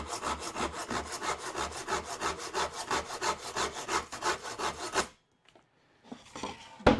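Hand saw cutting a 45-degree angle in wood, with steady rhythmic strokes about every quarter second, close and fairly loud, stopping abruptly, then a short burst of rustling handling noise.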